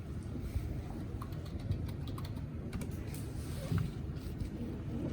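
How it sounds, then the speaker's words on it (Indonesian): Quick, continuous clicking of keys on a computer keyboard as a command is typed into a terminal, steady and close under a low background hum. "Pertama adalah buka terminal lalu ketik ROS core"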